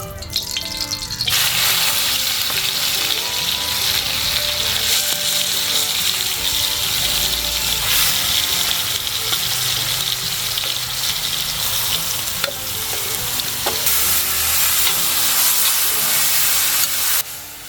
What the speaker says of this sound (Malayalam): ഇനി നമുക്ക് ആ നെയ്ക്കകത്തേക്ക് തന്നെ നമ്മുടെ ഈ കുമ്പളങ്ങ നമ്മളിതുണ്ടോ ഇങ്ങനെ ചീകി വെച്ചിട്ടുണ്ട് അതങ്ങ് ഇട്ട് കൊടുക്കാം